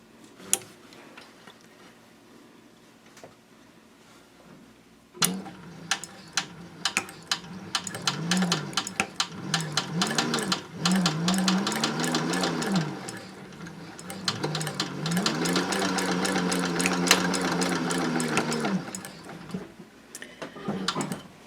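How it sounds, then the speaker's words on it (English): Sewing machine stitching a seam on a denim tote bag made from upcycled jeans: quiet ticking at first, then a sudden start into rapid, steady mechanical stitching with a whirring motor that rises and falls. "I'm going to sew over it a second time."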